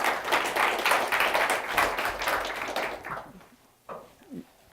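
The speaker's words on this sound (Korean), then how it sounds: "이익당 연사님을 박수로 환영해 주시기 바랍니다." Audience claps to welcome a speaker at a blockchain talk, a fairly full burst that fades out after about three seconds, followed by a couple of faint thumps and a brief voice.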